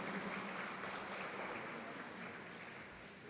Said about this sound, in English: Let us please give her a big round of applause.